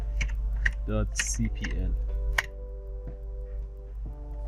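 Typing on a computer keyboard comes through as quick clusters of clicks and key taps, partly under a voice, then a few isolated taps over a steady low hum.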